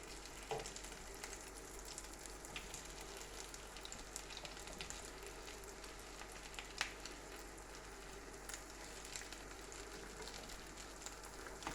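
Breadcrumb egg dumplings fry in a non-stick pan with a faint, steady sizzle and crackle, sparse soft pops and ticks scattered throughout, quiet and without speech.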